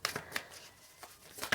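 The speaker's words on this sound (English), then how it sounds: "the cards when I'm shuffling do tend to keep knocking this card over" Tarot cards being shuffled by hand, a few quick soft riffling and tapping bursts, close and quiet with no talk.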